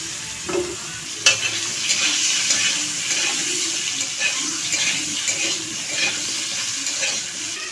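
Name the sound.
pointed gourd and potato frying in wok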